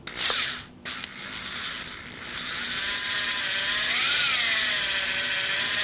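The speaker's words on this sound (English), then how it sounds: "Okay, so now I have these two ends on the drill, and then we're going to drill these together now" Power drill whirring steadily as it twists the two wire stems of a brooch bouquet together, a continuous close motor whine that rises slightly in pitch partway through, with no talking.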